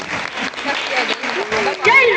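An audience applauds an author at a school Victory Day event, a brief burst of clapping in a hall with a voice speaking over it.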